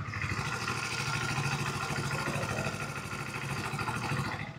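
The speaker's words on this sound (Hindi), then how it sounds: "अब आपको हम सुनाते हैं इसका इंजन साउंड।" A Hero Splendor Plus Xtec 2.0 motorcycle engine runs steadily and close by, a constant mid-pitched thrum with a slight rise partway through, and no voices are heard.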